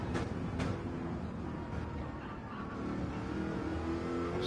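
A race car engine in a racing video game, revving and dropping through gears as the driver saves fuel near a hairpin, a steady mid-level engine drone with some surges and no voices.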